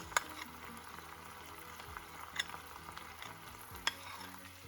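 Cracked green olives with pomegranate molasses fry quietly in a pan, giving a soft steady sizzle broken by a few sharp clicks from stirring, with no talk.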